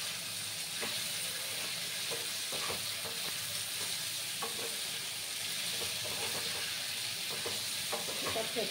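Stalk curry being stirred in a pan after salt goes in, a steady close sizzle with scraping spoon strokes repeating throughout.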